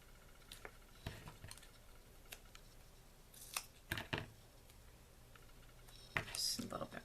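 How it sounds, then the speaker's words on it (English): Scissors snip through foam adhesive in a few sparse, faint cuts spread across a quiet crafting table, with small handling rustles between them. "I'm going to grab my foam adhesive, turn this around, and just kind of cut here and there."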